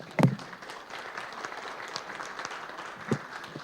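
A church congregation at a union assembly claps in praise, a burst of applause near the start that fades into a low murmur, then another short clap cluster near the end.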